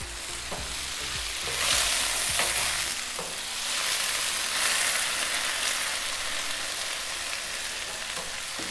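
Plant-based scrambled egg hits a hot buttered flat-top griddle, setting off a loud, continuous sizzle close by, with occasional light clicks and swells in intensity.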